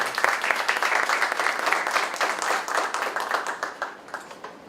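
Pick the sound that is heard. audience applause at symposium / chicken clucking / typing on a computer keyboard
audience applause at symposium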